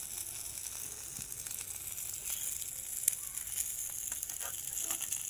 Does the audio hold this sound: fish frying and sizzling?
yes